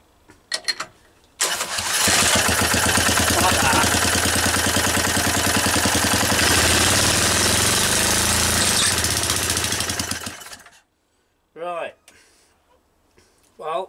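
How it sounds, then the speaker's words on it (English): A 3 horsepower Briggs engine with a slipping belt starts up, catching with a sudden loud roar that runs steady and close for several seconds before cutting out, followed by brief voices and scattered noises. "hopefully start the engine with it with the belt slipping, and then I can rev it up"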